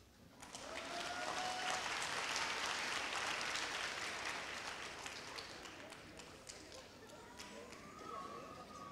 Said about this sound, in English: Okay, if we could give one more round of applause for Miss Evans' homeroom.